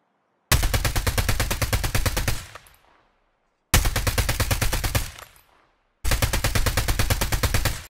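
Heavy automatic gunfire from a hard-kicking assault gun in COD Mobile, three sustained loud bursts of rapid shots, each cutting off into a brief fading tail before the next, with no talking.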